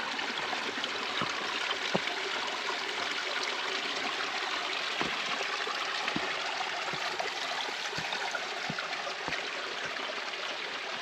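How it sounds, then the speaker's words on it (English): Shawnee forest creek water flowing steadily over small cascades on a slick, wet stretch, a continuous soft rushing and trickling with occasional faint taps. "Really pretty part of the creek."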